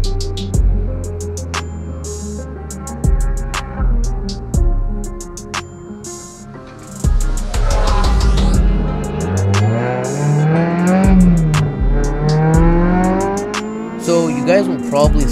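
An 8th-generation Honda Civic races around a track at Toronto Motorsports Park, its engine held at high RPM with loud, rising and falling revs, shifts and brief tire squeal, close and continuous, with some talking over it.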